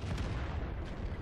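Artillery shot in World of Tanks, fired by a Conqueror Gun Carriage self-propelled gun: a dense, booming blast that fills the whole short moment with low rumble and broad noise.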